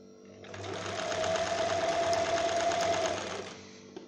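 A sewing machine stitches fabric in one continuous run of a few seconds. The motor whirs steadily with a rapid needle chatter that swells up and fades back down, close and without speech.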